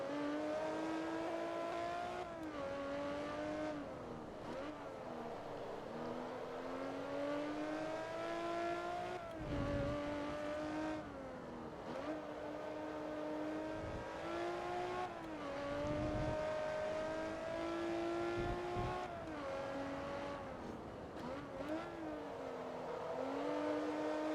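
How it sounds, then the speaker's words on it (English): A race car in Forza Motorsport 2 drives with its engine droning throughout, rising and falling in pitch through gear changes and revs, loud and steady for the whole stretch. "This game still looks really good for 2007."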